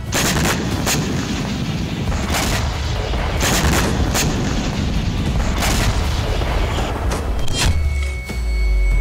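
Repeated loud blasts and booms, like gunfire or artillery, from a drone explosion in the forests of Kaluga near Moscow, arriving as a rapid irregular series of sharp bursts with a deep rumble building near the end.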